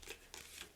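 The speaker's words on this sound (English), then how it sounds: "So you're going to shuffle all of these up" A deck of playing cards being shuffled for a board game, heard as three quick, faint riffling bursts close by with no talk.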